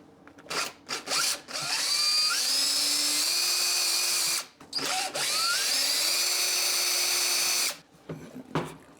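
A power driver removes Torx security screws from the top of a lithium battery pack in two long whining runs, with short bursts and handling clicks between them.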